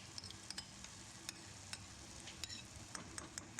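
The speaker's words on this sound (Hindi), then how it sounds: "अब दही को अच्छी तरह करेंगे मिक्स" Yogurt stirred into a frying potato curry masala in dhaba style, a faint low sizzle with light, scattered clicks and scrapes of a spoon against the pan, with no voices.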